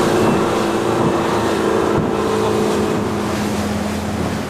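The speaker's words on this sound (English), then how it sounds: "This inflatable dinghy, which can be launched off the stern, is the fastest boat in these waters." An inflatable dinghy motorboat roars at speed, its engine droning loudly over rushing water and wind, steady throughout with no voices.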